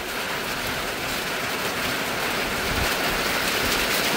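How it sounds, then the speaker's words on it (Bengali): Heavy rain drums steadily on a tin roof, a dense continuous hiss and patter at even loudness with no talking. "তেমন আমার এই টিনের চালে বৃষ্টির শব্দ, ঝুমঝুম বৃষ্টির শব্দ"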